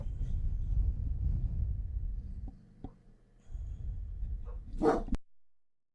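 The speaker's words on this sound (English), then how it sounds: "I'm sorry if you guys heard that bark" A single dog barks once, short and sharp, outside at some distance, after a stretch of low rumbling room noise and a few faint knocks, and the clip then cuts to silence.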